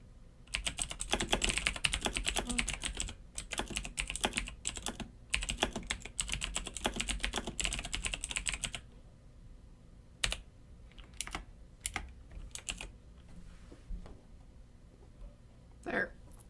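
Typing a listing description on a computer keyboard, with dense, fast runs of close key clicks for about nine seconds, then a few sparse, isolated taps.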